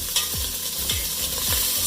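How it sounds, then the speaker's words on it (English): Meat replacement sautés in a pan with a steady close sizzle, punctuated by three evenly spaced stirring scrapes, with no voices. "So you can saute well our meat replacement."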